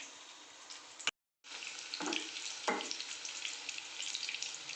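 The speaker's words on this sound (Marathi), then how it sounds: "बघताय आपण आपले पकोडे चांगले फ्राय होत आहेत" Chilli pakoras deep frying in hot oil make a loud, bright, continuous sizzle close by, cut by a brief silent gap near the start and swelling with a couple of sharper bursts.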